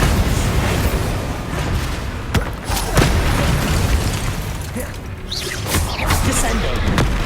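A Bombarda spell explosion in Hogwarts Legacy, a dense booming blast with sharp cracks at about 2.4 and 3 seconds, set in a continuous loud wash of game noise and effects that lasts throughout.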